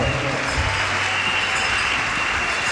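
A church congregation claps loudly and continuously in a dense, roomy wash, with a low steady tone and a faint hum running beneath it.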